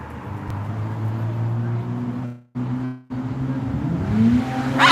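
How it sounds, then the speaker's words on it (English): An old SUV drives past outdoors on a patio street, its engine revving loudly with a steady rising drone, briefly cutting out twice before swelling again nearby. "The guy who just drove past, revving the engine."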